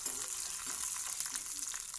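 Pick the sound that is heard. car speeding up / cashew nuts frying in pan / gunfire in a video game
cashew nuts frying in pan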